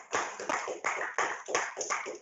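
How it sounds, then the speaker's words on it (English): One person claps hands slowly and close by, about six crisp, evenly spaced claps with no other sound between them. "and for this, I clap for you"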